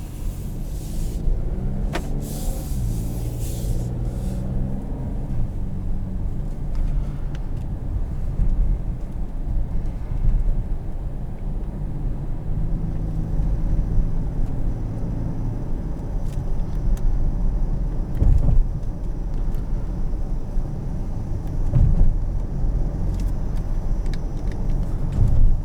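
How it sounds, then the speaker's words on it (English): A 2020 Ford Edge ST driving in sport mode gives a steady, low engine and road rumble heard from inside the cabin, continuous and fairly even throughout with no talking. "put it into sport mode and go for a drive."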